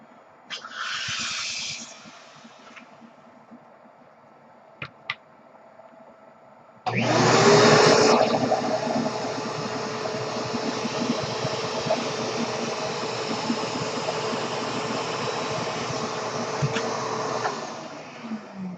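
A vacuum cleaner switches on after a few seconds of quieter noise and runs loudly and steadily, a broadband whine and roar, before cutting off near the end.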